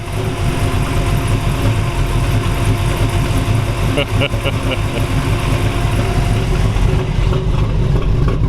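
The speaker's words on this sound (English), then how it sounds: "we'll fire this up for you and let you hear it run" A 1937 Ford two-door slantback street rod with a 502 big-block engine idles in a loud, steady, lumpy rumble heard up close, with a few sharp clicks partway through.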